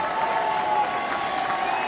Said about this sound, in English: You can hear the crowd roaring their approval.